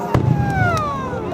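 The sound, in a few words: fireworks exploding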